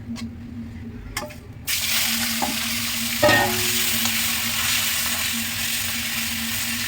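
Hilsa fish pieces hit hot oil in a wok and sizzle loudly, a steady broad frying hiss that swells after a brief quieter start, with a few clinks of a utensil.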